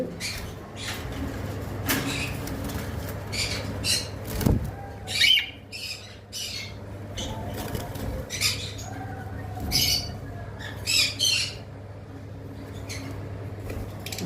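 Caged cockatiels, including a yellow pair, give scattered sharp squawks and chirps at moderate distance over a low steady hum, with quieter rustling between calls.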